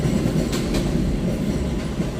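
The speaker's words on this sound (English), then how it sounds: "Elder Avenue, number 6 train." A New York City number 6 subway train rumbles past near Elder Avenue in the Bronx, a steady low roar with faint clattering wheels, loud and continuous throughout.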